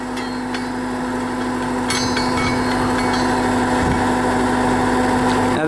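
A drop hammer runs on a land-based drilling rig, a steady mechanical engine drone with a persistent hum and occasional faint knocks and clanks, carrying on without pause.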